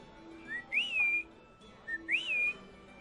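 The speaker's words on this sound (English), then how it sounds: "and the lady just whistled." A woman whistles two short, clear rising-then-falling phrases, close and alone, with a brief pause between them.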